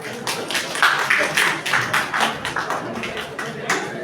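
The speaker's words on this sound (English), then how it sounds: "Guys, a big round of applause." A classroom audience applauds after a student's self-introduction in a job interview skills session, with dense, steady clapping from many hands filling the whole stretch at moderate loudness.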